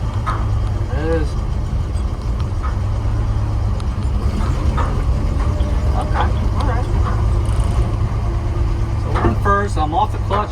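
A Chevrolet C10 pickup engine running steadily with a low rumble under someone talking, plus brief higher mechanical squeaks, close and fairly loud.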